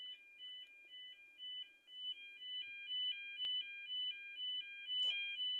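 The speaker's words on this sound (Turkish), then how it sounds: "Asansörü şu anda alarm çaldı." A stuck elevator's alarm rings in a repeating two-tone electronic pattern, pulsing steadily and fairly faint, with a sharp click and a brief knock breaking in partway through.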